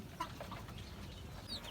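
Broiler chickens cluck softly in short, scattered calls while pecking at insects, faint and close, over a quiet outdoor background.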